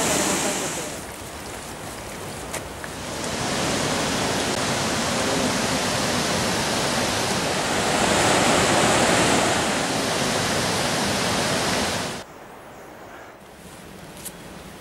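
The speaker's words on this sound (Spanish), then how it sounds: "Río Vilcabamba." Río Vilcabamba in the Peruvian Andes rushing steadily, a loud broadband roar of flowing water that swells midway and then drops away abruptly near the end.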